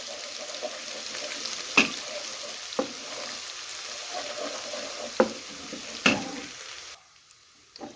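Ginger garlic paste sizzling in a pan for moong dal, a steady soft fry with a few sharp spoon taps and stirring clatters before the sizzle drops away near the end.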